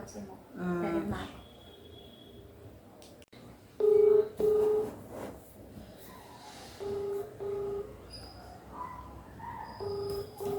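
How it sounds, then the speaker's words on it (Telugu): A phone call is placed to a father, with short electronic dialing and ring-back tones that sound faint and intermittent under background noise and some talk. "సో ఇప్పుడైతే మా నానికి ఫోన్ చేస్తున్నాం"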